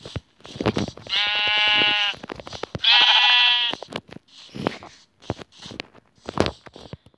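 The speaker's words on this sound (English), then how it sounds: "I'm going to go and get some sheep." Sheep in Minecraft Pocket Edition bleat twice in long, wavering cries, each lasting about a second. Soft footsteps and small game noises fill the gaps between them, and no one speaks.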